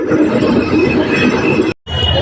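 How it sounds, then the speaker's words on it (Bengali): An old two-car tram in Kolkata rumbles past with a loud, continuous low roar of wheels and motor, cut by a brief dropout near the end. "দেখো গাইজ, একটা ট্রাম আসছে সামনের দিকে, ট্রাম এই দেখো, ট্রামটা আসছে, 2 ডাব্বাওয়ালা ট্রাম।"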